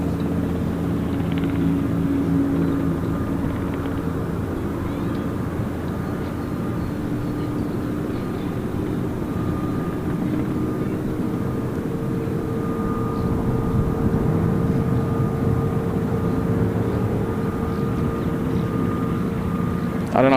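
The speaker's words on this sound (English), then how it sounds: "I don't know if you can hear that, but that's Oscar India Hotel flying over us" Aircraft Oscar India Hotel flying overhead near Gold Coast Airport, a broad steady engine roar with drifting tonal hum filling the whole stretch at a constant moderate level, with faint talk now and then underneath.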